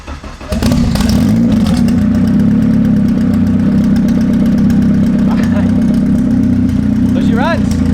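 A K24-engined all-wheel-drive Honda Civic cranks briefly, then catches and settles into a loud, steady idle with a deep droning hum that carries on to the end, close by.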